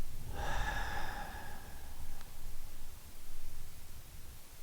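A single breath pushed out through the mouth during Tai Chi breathing practice, an airy whoosh up close followed by soft background hiss.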